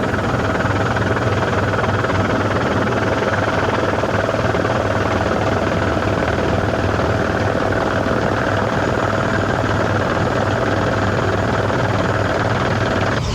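Helicopter hovering over a gravel rally stage in Nelson, New Zealand, during a 2005 national championship round, a loud steady thudding rotor and engine drone that fills the whole stretch without pause and with no voices.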